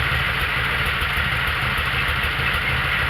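A vehicle engine low on transmission fluid runs steadily and loudly at idle, a constant close droning hum with no pauses or voices.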